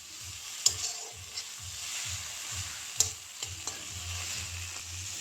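Spiced potatoes and paneer being stirred in a pan, with a steady frying sizzle under repeated scraping strokes in an even rhythm and a few sharper utensil clinks against the pan, close and moderately loud.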